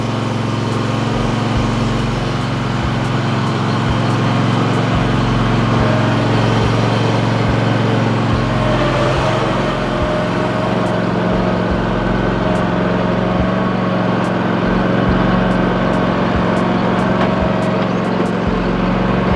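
A ride-on lawnmower engine runs continuously and loudly close by, a steady rough droning hum with slight fluctuations and no talk.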